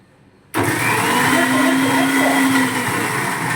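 Kitchen mixer grinder switching on abruptly after a quiet moment, then running with a loud, steady high-pitched whirring motor drone for several seconds.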